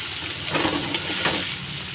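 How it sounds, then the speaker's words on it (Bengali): Boiled potatoes fry in an oil-filled pan for an egg curry, giving a steady close sizzle with brief louder bursts as they are stirred, no voices. "ভালো করে লাল লাল করে আলুগুলো ভেজে নেব।"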